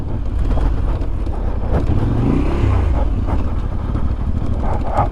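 A Voge 800 DSX Rally adventure motorcycle rides a rocky single-track trail, its steady engine drone loud and close with shifting pitch, mixed with heavy wind buffeting and gravelly rumble throughout.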